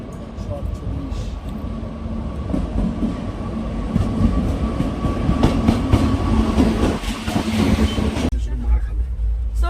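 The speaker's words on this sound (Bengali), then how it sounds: "দেখো ট্রেন আসছে" A train rolls in on the rails in the Dooars with a loud, steady rumble and rhythmic clatter, voices faintly audible, before the noise drops away at the end.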